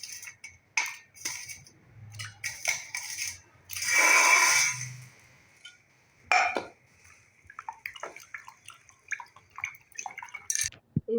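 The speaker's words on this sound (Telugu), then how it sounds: "ఇవి కట్ చేసుకున్న తర్వాత ఇదిగోండి ఇలా వాటర్లో వేసుకొని వాష్ చేసుకోండి." Sliced sweet potato pieces being rinsed by hand in a bowl of water in a home kitchen, with sloshing and dripping, a longer splashing swirl in the middle, and light clinks of the pieces against the vessel, close by with no talk.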